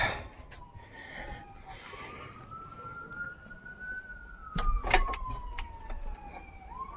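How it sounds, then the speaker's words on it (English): An ambulance siren wails in a rising and falling sweep as it passes at a moderate distance, with some traffic noise and brief clatter underneath. "so that's the ambulances. You hear that often."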